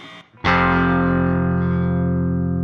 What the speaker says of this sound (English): Violence is a distortion inspired by certain pieces of outboard gear that were themselves inspired by guitar amps